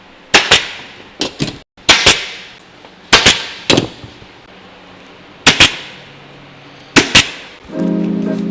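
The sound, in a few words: staple gun stapling a seat cover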